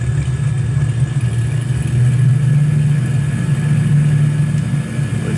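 Twin engines of a Cessna Skymaster in a flight simulator game throttled up together, a steady low-mid engine drone building slightly in loudness, with no talk.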